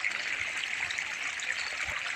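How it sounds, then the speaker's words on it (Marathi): Irrigation water runs and trickles steadily to plants in a continuous, gentle flow, close by and fairly quiet. "तिकडे झाडांना पाणी सोडलेलं आहे बघा"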